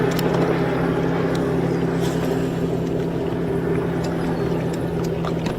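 A motorboat engine drones steadily nearby on Lay Lake, Alabama, a low constant hum over water with faint wind noise, no voices.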